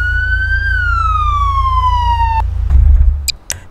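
A wailing police siren from GTA 5 police cars in Garry's Mod sweeps slowly downward, cuts off abruptly, then gives way to a low engine rumble and a couple of short electronic chirps; loud and close, no talk.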